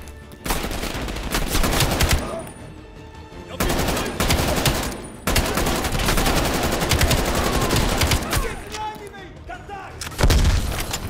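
Rapid automatic gunfire from a gun in Call of Duty: Black Ops Cold War rattles in long, loud bursts with short pauses between them and dense sharp shots, with no voices over it.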